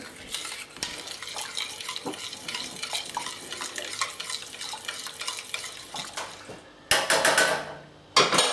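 Butter stirred in a pan over heat until it melts, giving soft scraping and light clinking of a utensil against the pan. Near the end come two louder bursts of rushing noise.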